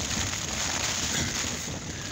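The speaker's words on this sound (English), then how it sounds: "Then all of a sudden you'll get a massive gust that will just come in and just wants to break your tent up and lift it up." Strong wind gusts buffeting a Hilleberg Tarra tent in very extreme weather in the Yorkshire Dales, a steady loud roar and rumble of wind against fabric and microphone, continuous with no speech.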